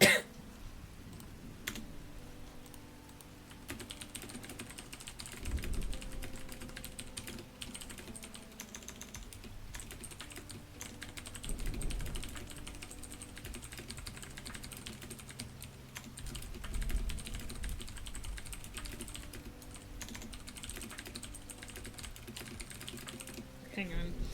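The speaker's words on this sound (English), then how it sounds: "I'm still typing" Steady, rapid typing on a computer keyboard while writing a book, a continuous patter of key clicks running throughout with a voice and background sound underneath.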